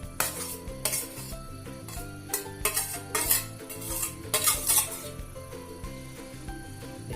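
Ghee melting in a heated kadai, stirred with a metal spoon that clinks and scrapes against the pan in irregular bursts, a light sizzle beneath and background music throughout.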